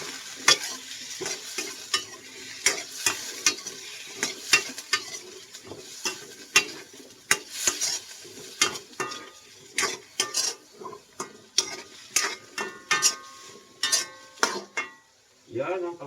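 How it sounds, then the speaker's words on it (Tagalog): Squash and vegetables are sautéed in a pan for shrimp ginataan, with a soft continuous sizzle under repeated scraping and clacking stirring strokes close by, at an irregular, busy rhythm. "Igisa natin muna itong ating mga gulay."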